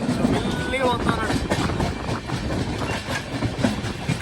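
Train on a line in Telangana near Ramagundam, moving slowly with a steady rumble and faint rhythmic wheel clatter, heard close and continuous throughout with no talk over it.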